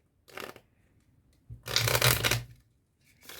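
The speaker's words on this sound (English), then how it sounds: "So we do an overhand shuffle." Playing cards riffle through an overhand shuffle in a card trick, with a short burst of shuffling, a louder, longer run of cards slapping and sliding, then another burst starting at the end, all close and clear with no talk.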